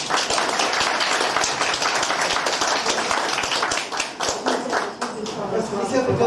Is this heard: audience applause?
yes